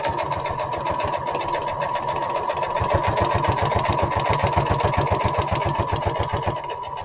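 A sewing machine stitches slowly and steadily through a homemade lapbook while back stitching, its needle thumping in an even, rapid rhythm close by for several seconds.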